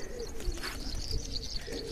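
A racing pigeon settles on a loft roof and coos softly a few times, faint and close, over a quiet outdoor background.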